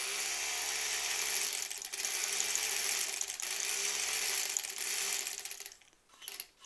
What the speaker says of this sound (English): I wonder if you could wind the bobbin on a different machine